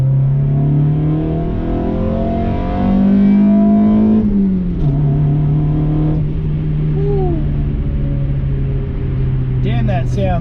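A Honda Civic budget build fitted with an airbox drones steadily while driving, then its engine revs rise and fall with gear changes. The interior cabin sound stays close and loud, and people talk briefly near the end.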